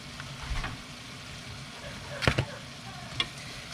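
Bacon being added back to a pan of soft cabbage and noodles, a faint steady sizzle with a few clinks and stirring knocks of a utensil against the pan.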